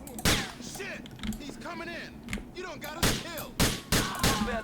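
Gunfire in GTA 4 rings out as several sharp, loud shots spaced irregularly, mixed with game sounds and someone talking in between.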